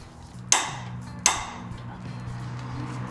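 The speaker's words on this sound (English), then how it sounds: "we're going to be torquing them down to the manufacturer settings" Two sharp metallic clicks from a torque wrench reaching setting while tightening bolts on Honda S2000 rigid collars, spaced under a second apart, close and distinct over a low steady hum.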